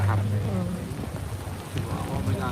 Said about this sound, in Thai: ตอนนี้ฝนตกค่ะทุกคน